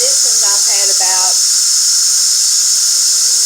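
Steady broadband hiss of steam from a nail steamer runs through the whole stretch, loud and unbroken, with a brief squealing tonal burst near the start.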